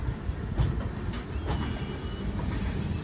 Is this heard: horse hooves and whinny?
no